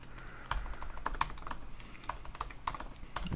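Computer keyboard typing while setting up a Ruby on Rails book library app, a quiet run of irregular key clicks in quick bursts with short pauses, close and fairly soft, no voices.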